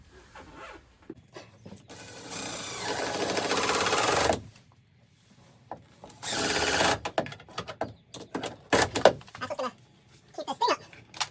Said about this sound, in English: Just gonna add a bunch more screws.